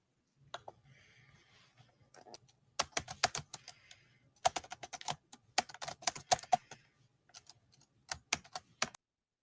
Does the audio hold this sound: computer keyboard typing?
yes